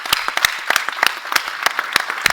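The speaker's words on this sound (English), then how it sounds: "I think we can all clap for this amazing work" Audience applauding a data competition winner at a symposium, a short burst of scattered, fairly sparse hand claps from a modest crowd, crisp and close.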